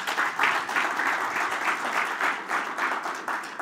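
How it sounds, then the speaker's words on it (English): An audience applauds warmly at a women's business event, a dense, even clapping that swells in soft waves and then continues. "Let's clap for her."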